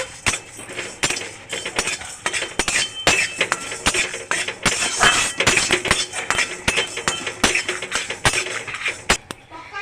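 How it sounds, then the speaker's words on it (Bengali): Whole cumin, a dry red chili and whole cardamom stir-fried in a pan, heard as rapid metallic scraping and clinking of a spatula against the pan, close and busy, steady for several seconds. "জিরে, গোটা জিরে, একটা শুকনো লঙ্কা আর গোটা এলাচ। নেড়ে ছেড়ে ভেজে নেব।"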